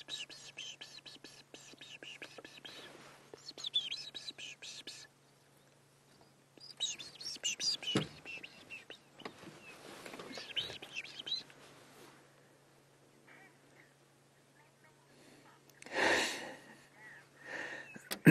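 Canaries and starlings sing at sunrise on a Sabi Sand safari, with faint, scattered chirps and twitters in the distance beneath hushed, whispered talk, broken by a few quiet pauses.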